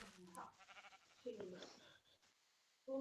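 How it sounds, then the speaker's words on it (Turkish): Sheep bleating in a survival video game, a brief wavering animal call that sits under and between steady talking from players, with a short louder burst near the end. "Kahverengi koyun benim yanımda dolaşıp duruyor."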